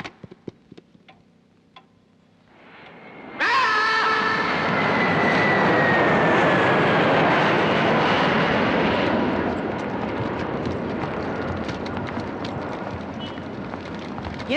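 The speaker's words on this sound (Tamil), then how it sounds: "ஃப்ளைட் வந்துருச்சான்." Jet airliner arriving in a Tamil comedy film scene, its engine roar swelling abruptly to a loud, sustained whine with a descending turbine tone, after a few faint ticks and near-silence.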